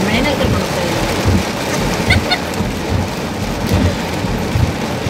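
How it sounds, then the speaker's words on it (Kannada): A heavy rainstorm with thunder in Rameswaram: dense, loud rain drums steadily while low rumbles roll underneath, and voices are faintly audible beneath the downpour. "ಮಳೆ, ಗುಡುಗು, ಸಿಡ್ಲು ಎಲ್ಲ ಬರ್ತಾ ಇದೆ ರಾಮೇಶ್ವರದಲ್ಲಿ."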